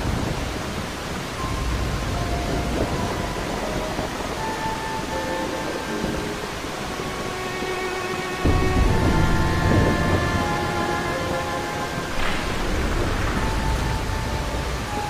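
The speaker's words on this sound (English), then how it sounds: "This is the first time I've ever felt the rain on my skin." Steady rain with rolling thunder in the video game Final Fantasy 7 Dirge of Cerberus, a dense constant hiss with a louder rumble midway, layered under soft tonal game music.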